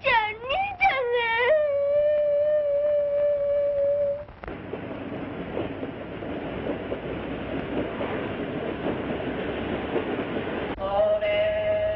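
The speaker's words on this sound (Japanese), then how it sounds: "ただいま、一番線へ到着の列車は、14時28分発、長和駅、福音列車でございます。" A passenger train pulls into platform one at a 1940s Japanese station, a steady rumbling roll with rail clatter lasting most of the time, framed by a whistle-like tone and a voice at the start and again near the end.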